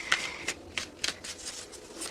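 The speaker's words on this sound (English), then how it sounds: "while I'm shuffling, this is a general reading for all Virgos" Tarot cards being shuffled by hand, with soft riffling bursts that come in a loose, uneven rhythm, close and fairly quiet, with no talking.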